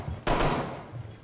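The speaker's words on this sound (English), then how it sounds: "That's me shooting." Gunfire from the player's own weapon in a competitive first-person shooter match, a sharp loud burst that holds steady for about a third of a second, then fades into game ambience.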